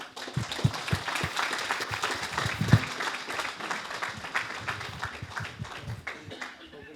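An awards ceremony audience at East London Mosque breaks into sustained applause, dense clapping from a crowd that fades slightly toward the end, with some voices under it.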